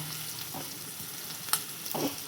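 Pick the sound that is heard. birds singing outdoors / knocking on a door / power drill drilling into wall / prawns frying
prawns frying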